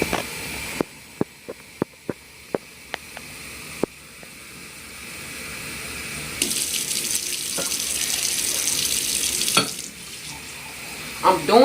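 Tap water runs into a kitchen sink while vital wheat gluten seitan dough is rinsed, a steady close hiss with splashy surges and a few sharp clicks and knocks early on.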